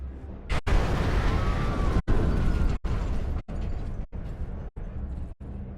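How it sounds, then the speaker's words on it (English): A fluid overload explosion in the Mars: War Logs video game erupts loudly and rumbles on for several seconds, with the roar broken by a series of short abrupt cutoffs. "An explosion, but not one of ours."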